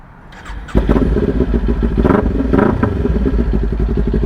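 A Kawasaki Ninja 400 sport motorcycle engine fires up with a deep, loud, uneven rumble and clatter, revving steadily as it pulls away close by.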